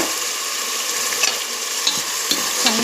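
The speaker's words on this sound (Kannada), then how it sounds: "ಚೆನ್ನಾಗಿ ಹಸಿ ಸ್ಮೆಲ್ ಹೋಗೋ ತನಕ ಫ್ರೈ ಮಾಡ್ತಾರೆ" Ground masala for mint pulao fries in a pan while being stirred, a steady close sizzle with occasional scraping strokes of the spoon, no voices.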